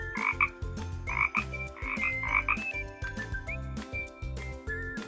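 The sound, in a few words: frog croaking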